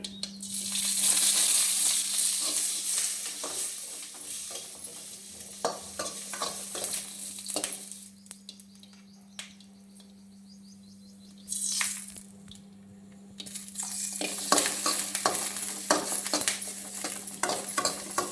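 Green chillies frying in a little oil, a bright loud sizzle with clinks and scrapes of a stirring utensil over a low steady hum, fading to quieter stretches midway before the sizzling picks back up.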